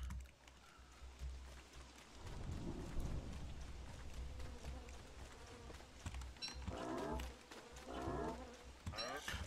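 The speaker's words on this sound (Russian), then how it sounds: "А, он дождик же идет опять." Rain and rumbling thunder in the video game Don't Starve: a low thunder roll swells in the middle over a steady hiss of rain, mixed with buzzing insect-like game sounds and other game effects.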